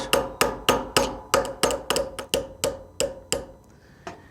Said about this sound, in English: With the 1/8 inch roll pin punch in place, I can now use my hammer to tap the pin out.